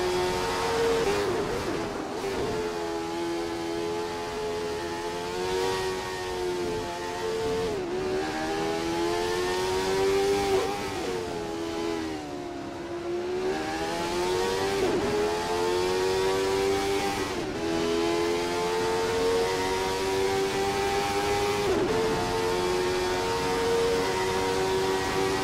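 Jordan 191 Formula One car in a racing video game set at Spa in 1991, its high-pitched engine screaming continuously through gear changes and revs, steady and loud throughout with no talk.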